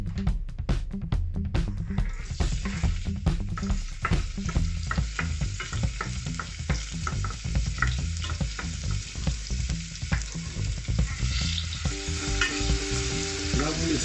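Steady crackling sizzle of onions frying in oil in a pan, with occasional stirring scrapes and clatter, continuous and close.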